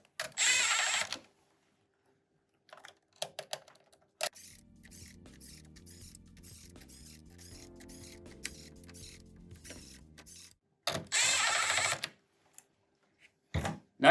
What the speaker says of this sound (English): we're going to take our 5/16 bit and we're going to tighten down